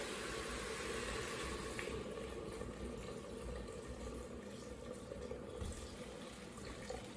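Water runs steadily into a soup pot holding softened leeks and onion, a continuous close hiss and splash lasting throughout with no talk.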